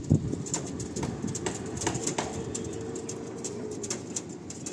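Andhra pigeons coo softly at a sale loft, several brief murmuring calls scattered over a low steady background hum, close and moderately quiet.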